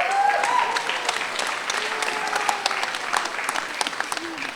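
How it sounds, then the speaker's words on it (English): An audience applauds at a gathering, a dense burst of clapping that stays fairly loud and steady for several seconds, then gradually thins out. "Give him a round of applause."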